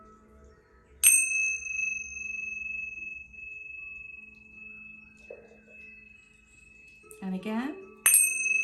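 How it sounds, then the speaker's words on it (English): Tingsha bells struck together, a bright sustained ring that fades slowly, then struck again twice near the end with a brief voice speaking between strikes. "So I'm going to use tincture bells,"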